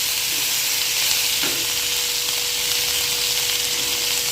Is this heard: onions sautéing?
yes